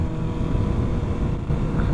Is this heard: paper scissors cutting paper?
no